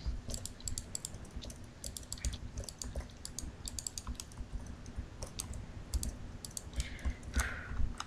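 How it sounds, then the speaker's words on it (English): Rapid clicking from a computer mouse and keyboard during a multiplayer building game, a dense run of light taps and clicks throughout with a low steady hum underneath and no talking. "I hear you clicking your mouse"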